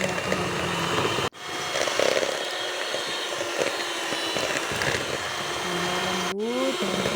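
An electric hand mixer whirs loudly as it beats a cream cheese batter for steamed brownies, a steady motor buzz broken by two brief cutoffs and a few pitch sweeps as the speed changes.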